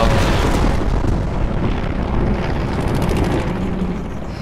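Aircraft in Tomb Raider being shot down and exploding, a loud, sustained roaring blast with rumbling debris noise filling the whole moment.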